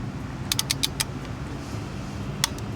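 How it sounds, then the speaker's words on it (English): A torque wrench set to 8 pounds tightens a spark plug, giving a quick run of sharp, close clicks and then one more isolated click a moment later. "we're gonna wait for the click"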